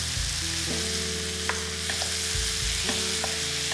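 Garlic, chopped tomatoes and olives fry in a pan with a steady close sizzle. Occasional soft stirring knocks sound under the frying, and no one speaks.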